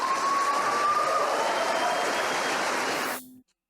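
Steady applause from a large audience at a college campus debate, a dense continuous wash of clapping that fades out abruptly at the end.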